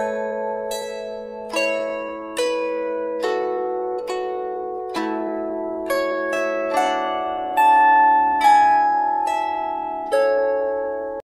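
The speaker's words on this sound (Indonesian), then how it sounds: "Ada jenis alat musik yang namanya lira." A medieval European lyre, or lira, is plucked in a slow melodic line, each string note ringing out clearly and decaying before the next one sounds.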